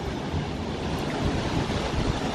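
Ocean waves break on the shore at Puerto de la Cruz, Tenerife, giving a steady, dense rush of surf with wind buffeting the microphone, heard alone for a couple of seconds.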